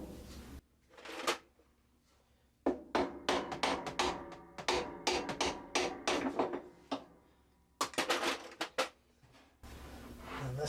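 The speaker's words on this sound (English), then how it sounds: "Get this spanner wrench once again." Spanner wrench working a part loose inside a 2003 Maytag Performa PAV2360AWW top-load washer under repair for a failed bearing, giving bursts of sharp metallic knocks and clanks, close and moderately loud, with pauses between clusters.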